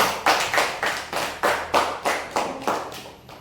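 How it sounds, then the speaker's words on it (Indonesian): A group in a classroom lesson claps hands together in a steady, even rhythm, about ten sharp, close claps spaced evenly, with no talking. "Tepuk tangan dulu untuk kita semua."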